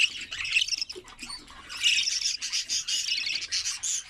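Budgerigars squawk and chirp in a busy, close flock of high, scratchy calls that keep overlapping, with short gaps and no voices.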